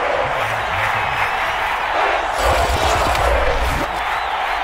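A stadium crowd in the Madden NFL 22 football video game roars steadily and loudly after an opening-drive field goal, a dense wash of cheering with a brief swell partway through.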